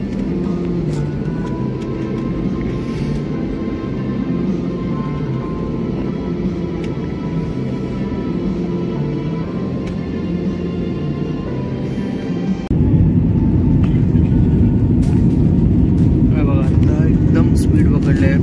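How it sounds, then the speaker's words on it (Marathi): Airliner on an international route rumbling as it speeds down a wet runway for takeoff, heard from inside the cabin as a steady broadband roar that grows louder and heavier partway through. "स्पीड पकडले आहे प्लेनने आणि आता टेक ऑफ करेल।"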